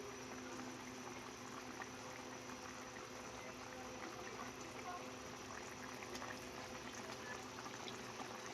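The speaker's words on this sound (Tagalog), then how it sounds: "Kuluan natin to hanggang sa lumambot." Chicken for halang-halang simmers in a covered pot, giving a steady, even bubbling hiss that goes on without a break, with no voices.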